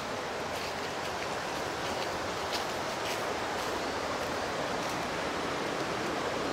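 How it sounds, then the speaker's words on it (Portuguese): Water rushing steadily from a waterfall and stream at a campsite in Minas Gerais, a dense, continuous broadband roar that stays close and constant throughout, with no talking. "Esse barulho de água é tudo de bom"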